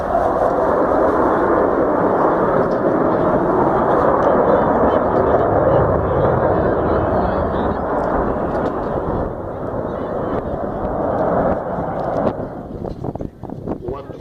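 A deep, continuous roar of an Avro Vulcan jet bomber flying at an airshow display fills the whole clip, loud and steady, slowly easing off toward the end with some wind buffeting.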